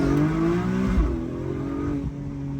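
A Porsche 718 Boxster GTS 4.0 with sport exhaust pulls hard in first gear, its engine note rising and shifting in pitch, loud and close from inside the car.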